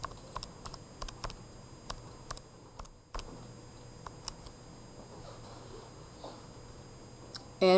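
Someone types a function into a calculator, a run of quiet, irregular key taps and clicks close by in a quiet room, ending with a brief louder noise.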